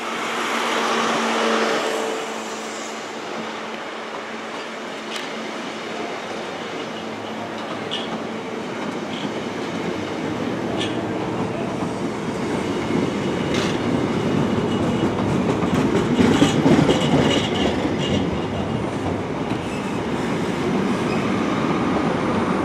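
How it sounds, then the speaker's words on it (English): A Great Western Railway Penzance to London Paddington service, with a green power car, is heard arriving at Plymouth station as a steady loud rumble that builds with rail clatter and faint squeals, no talk over it. "It's the 1256 Great Western Railway service from Penzance to London Paddington."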